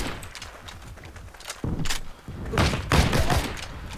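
Game gunfire from Heroes & Generals, a burst of sharp shots and thuds arriving in clusters over a busy battlefield background, with the louder volleys coming late in the stretch.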